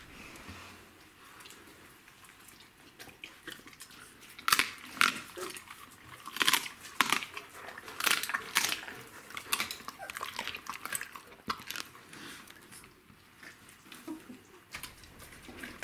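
A nursing Czechoslovakian wolfdog chews and tears at raw meat close by, with wet, irregular crunching and smacking bursts through the middle, fading back to quiet near the end.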